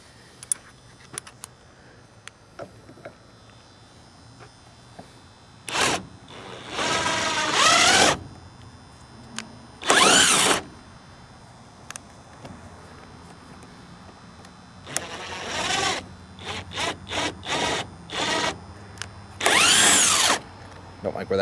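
A cordless power drill drives big lag screws into a dump trailer, in several loud close bursts of whirring that speed up and bog down, separated by quiet pauses and small clanks.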